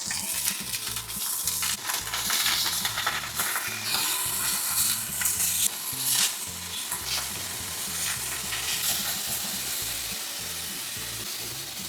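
An oiled steak searing in a very hot pan for a Brazilian bife a cavalo, a loud, steady, close sizzle that hisses and crackles throughout without pause.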